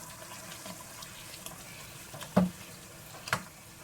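Liquid simmering and bubbling in a cooking pot of vegetables for malai paneer, a soft steady burble with two brief louder pops or clinks close by.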